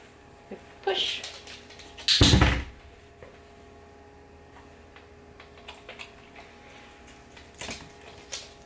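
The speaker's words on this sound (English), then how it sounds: "you can say push and they'll go and push the door shut" A dog pushes a household drawer shut on command, giving a loud wooden thunk and bang that stands out among a few softer knocks and light movement noises in a quiet room.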